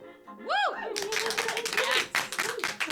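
A small podcast studio audience breaks into a short, scattered round of clapping that continues for a couple of seconds while people keep talking over it.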